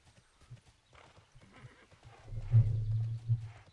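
Horse hooves clip-clop in the video game Tera, a run of quick near hoofbeats building to a louder, heavier stretch of galloping steps.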